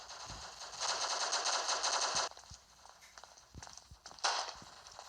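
Automatic gunfire rattles in rapid bursts in Ferro Guerra Quadrada Block Strike, a long burst followed by scattered footsteps and single shots, then another short burst, loud and close with no talk over it.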